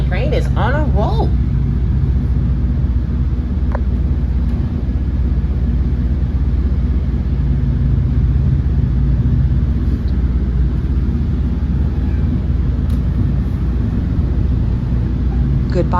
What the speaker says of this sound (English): MARC tandem line train is on a roll.